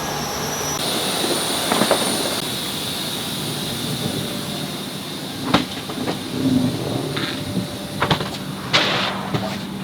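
A jet airliner on a departure flight, a loud, steady engine roar and whine filling the cabin with scattered clicks and small knocks over it, no voices.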